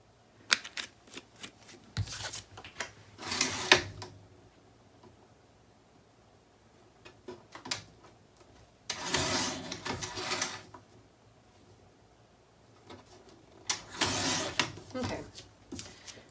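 Purple paper for a mini album cover is trimmed on a paper trimmer, with several bursts of close sliding, rasping cuts separated by quieter handling and taps.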